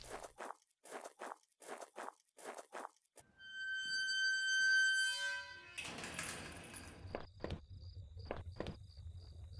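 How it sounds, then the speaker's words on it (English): About seven steady footsteps crunch close behind the player in the horror game Where's My Wife, then give way to a loud electronic ringing and buzzing drone with sharp clicks. "That sounds like footsteps behind us."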